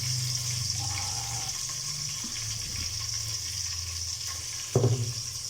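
Ginger garlic paste frying in a pan produces a steady, bright sizzle, close and moderately loud. A single louder scrape of a spatula comes near the end, and nobody speaks.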